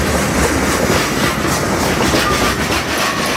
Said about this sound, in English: That's a rock train flowing through Lakeland.